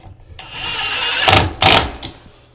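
A power driver sets a screw to mount a tub and shower valve, a steady whine followed by two sharp bursts as the screw bites, close and loud.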